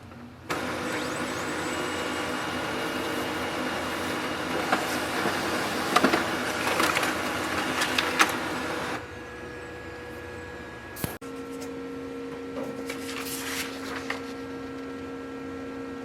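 A Brother HL-L2460DW laser printer prints a page with a steady mechanical whir and fan hum. The tone shifts partway through, followed by a click and a lighter running hum, with no talking.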